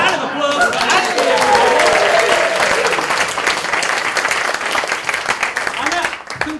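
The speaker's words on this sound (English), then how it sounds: "Give yourselves a round of applause." An audience at a live show breaks into a full round of applause, dense clapping that swells quickly, holds loud for several seconds, then thins out toward the end.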